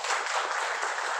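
Brief, faint applause from the audience at a journalists' union meeting in Hyderabad: a short, even burst of many hands clapping, somewhat distant.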